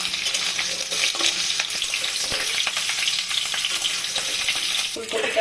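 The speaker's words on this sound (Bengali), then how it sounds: "ফুলকপিটা ভাজা হয়ে গেছে" Cauliflower frying in oil in a home kitchen pan for a potato, cauliflower and prawn curry, a steady close hiss of sizzling with scattered pops and occasional stirring scrapes, without speech.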